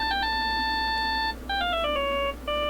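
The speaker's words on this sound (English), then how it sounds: "All of a sudden, the phone began to ring." A cell phone ringtone from the Phoenix Wright: Ace Attorney – Justice for All video game plays as a bright electronic melody of stepped beeps, sounding in two loud bursts separated by short gaps.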